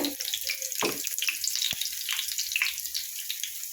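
Masoor dal fritters with Malabar spinach frying in a little oil give a steady close sizzle, broken by a couple of brief scraping clicks as they are nudged in the pan.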